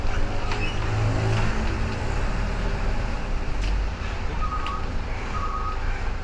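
An ALS bus rolls into its depot yard, a steady low engine drone with road rumble and a few faint high whistle or beep tones, close and continuous with no talk.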